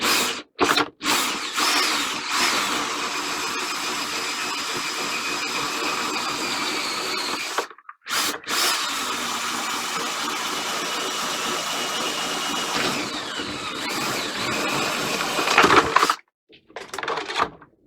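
An air cutter slices a hole through the two plastic layers of a KeyKeg, a loud, continuous high-pitched whine with short gaps where the tool stops, ending in a brief burst before falling quiet.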